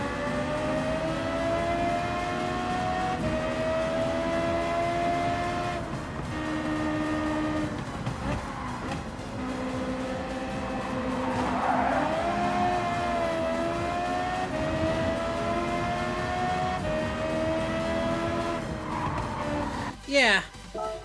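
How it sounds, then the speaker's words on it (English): A high-revving Suzuki race car engine in Gran Turismo 7 holds a loud, steady motorbike-like whine that rises and falls with gear changes throughout, ending in a brief burst near the end. "it sounds like a motorbike, a high-revving motorbike, but, you know, it's kind of a Suzuki charm in a way."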